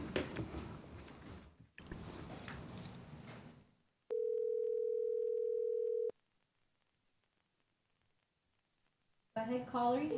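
A telephone line opens for a call-in during a county commissioners' public comment session, and one steady tone sounds for about two seconds between stretches of talk in the meeting room.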